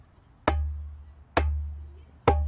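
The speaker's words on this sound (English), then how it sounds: "Beautiful bass sound." Three deep bass strokes struck in the center of a hand drum, each a sharp attack followed by a low, booming resonance, evenly spaced and close, with no voices.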